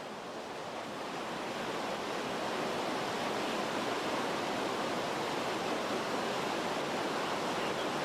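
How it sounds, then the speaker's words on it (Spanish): Underground water flowing through springs beneath a mass of fallen rocks: a steady, dense rushing hiss, close and even throughout, with no other sounds. "las aguas subterráneas fluyen a través de fuentes situadas bajo la masa de rocas caídas"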